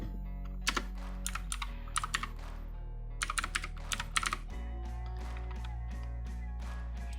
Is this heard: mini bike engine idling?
no